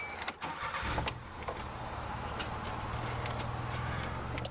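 A Geo Metro's engine runs steadily with its front wheels raised off the ground, a continuous close rumble after a brief rough start, with no one speaking.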